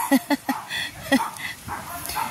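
A dog gives a quick series of sharp, close barks at a house in a cold setting, with three in fast succession and another a moment later, over faint background noise.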